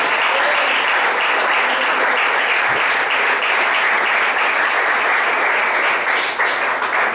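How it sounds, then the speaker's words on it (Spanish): A church congregation applauds loudly and steadily for about seven seconds, a dense wall of clapping that fills the room with no break. "Denle fuerte el aplauso a Cristo."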